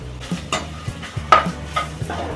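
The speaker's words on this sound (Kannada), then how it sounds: "ಸ್ವಲ್ಪ ಎಣ್ಣೆ ಕಾದ್ಮೇಲೆ ಇದಕ್ಕೆ ಹಸಿ ತೆಂಗಿನಕಾಯಿನ ಫ್ರೈ ಮಾಡ್ಕೊತಾ ಇದ್ದೀನಿ" Grated raw coconut frying in a little oil in a non-stick pan, heard as a soft sizzle under repeated close spoon scrapes and stirs against the pan, about five strokes in quick succession.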